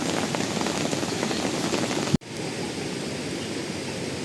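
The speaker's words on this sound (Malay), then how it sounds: "Hujan." Steady rain pours down at a campsite, a dense even hiss that stops abruptly for an instant midway before resuming just as heavily.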